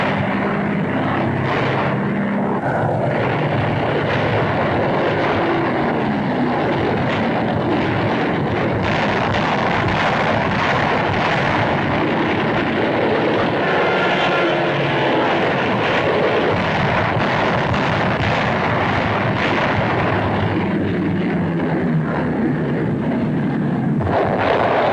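World War II Japanese warplanes attack during the Marshall Islands campaign, propeller engines droning loudly and continuously with bursts of gunfire and explosions mixed into the dense roar, no voices.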